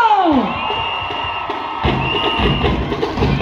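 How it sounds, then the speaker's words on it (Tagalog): A rally crowd cheers for a senator, loud whoops and shouts rising over a dense roar, with a voice briefly audible at the start. "Isang malakas na hiyawan muli para kay Senator Erwin Tulfo!"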